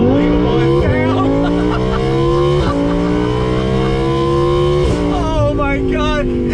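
A 2018 Audi R8 V10 Plus Spyder's V10 engine screams loudly, rising in pitch through several gear shifts with brief dips between each climb.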